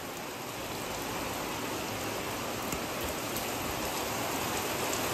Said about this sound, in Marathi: पावळ्या कसल्या गळत आहेत बघा जोरात